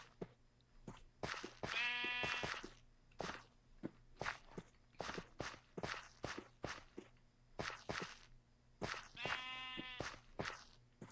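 Sheep in the Minecraft video game bleat twice, several seconds apart, over a steady run of crunchy in-game footsteps moving across the ground.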